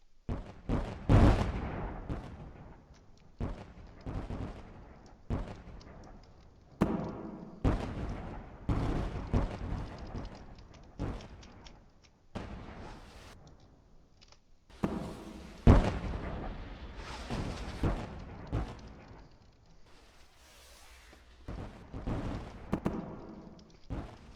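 Torpedo launches and naval gunfire in the Roblox Warships game, a busy run of loud repeated booms and bursts with sharp onsets and decaying rumbles, spaced irregularly across the whole stretch.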